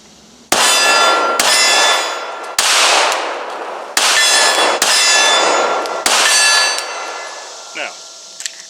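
Pistol shots ring off steel targets, about six sharp cracks each followed by a bright metallic clang that rings on and fades, loud and close, with a quieter tap near the end.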